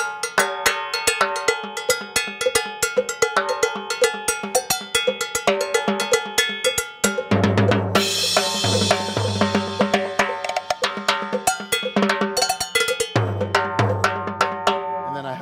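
Timbales and cowbells are played in a busy traditional Latin rhythm, with sharp metallic strikes and rolls on a percussion rig, loud and close, with no voices.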